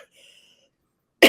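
A single sharp cough bursts out loud and close at the end, after near silence with faint murmuring, as a green drink goes down the wrong pipe.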